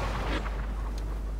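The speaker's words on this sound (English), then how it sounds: "Oh, it's cannons as well." Ship cannons firing in Sea of Thieves, a single deep booming blast up close that quickly fades into a rumbling tail.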